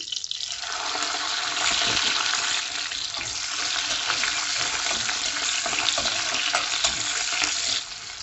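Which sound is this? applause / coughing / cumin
cumin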